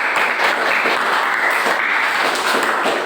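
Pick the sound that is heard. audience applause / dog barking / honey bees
audience applause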